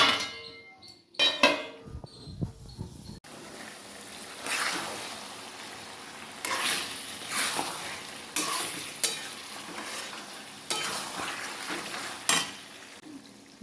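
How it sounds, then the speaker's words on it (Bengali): Mutton with ginger-garlic paste sizzles in a hot wok while a spatula stirs it steadily. Scraping strokes rise and fall over a constant frying hiss, and no one talks. "কড়াইয়ে মাংস দিয়ে দিলাম। এরপর কিছুক্ষণ নাড়াচাড়া করে কষে নেব।"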